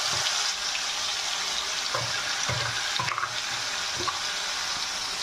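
Bean paste is added to black cumin frying in oil and sizzles in a steady, loud, close hiss, with a few soft clinks and scrapes of cookware on top and no voices.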